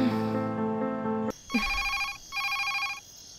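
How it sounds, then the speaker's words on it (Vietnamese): A telephone rings in repeated bursts indoors, following a stretch of steady tonal background music, loud and close with a brief pause between rings. "Con nghe điện thoại đi."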